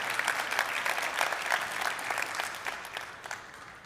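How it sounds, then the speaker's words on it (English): Audience clapping at a Rotary gathering, scattered claps building to a moderate burst and then tapering off, with no voices over it. "Please go ahead and clap."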